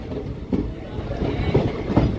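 Fast passenger train 58506 on the Visakhapatnam to Gunupur route rolling along near Cheepurupalli, a steady low rumble with faint rhythmic clatter heard from inside the carriage, with brief bursts of voices in the background.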